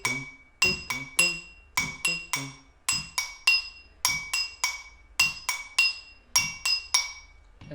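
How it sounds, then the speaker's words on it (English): Two drinking glasses struck with a chopstick used as a mallet ring out in a quick repeating rhythmic pattern of bright, clear clinks at two pitches, each note decaying briefly, close and alone. "I used two glasses and a chopstick as my mallet to play them."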